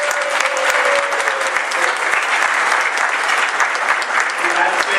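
A crowd at the ComicsPRO Industry Appreciation Awards presentation applauds and cheers for the honorees. The clapping is dense, loud and sustained throughout, with scattered louder claps on top.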